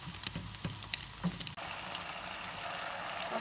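An egg frying in a pan for egg fried rice: a steady close sizzle with a few scrapes and taps of a spatula breaking it up, continuous with no talking.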